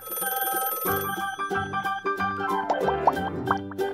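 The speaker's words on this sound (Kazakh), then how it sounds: "Телефон." A telephone bell rings in a repeating pattern over a light musical backing, clear and close, with no speech.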